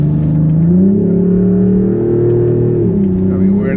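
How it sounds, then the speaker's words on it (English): A 2026 Dodge Charger Sixpack twin-turbo inline-six in sport mode with exhaust valves open, a steady loud drone that rises in pitch and holds while cruising a public street, heard from inside the car. "You hear the turbos. We're in sport mode right now, so the exhaust valves are open."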